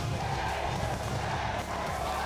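A large crowd at the women's junior hockey World Cup final roars continuously, a dense, loud wall of cheering and chanting voices as the match clock runs down, with no single voice standing out.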